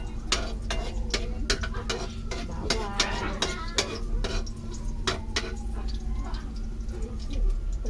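Sautéing in a home kitchen pan, with a steady sizzle under repeated scraping and clinking of a utensil stirring against the pan, close and moderately loud throughout.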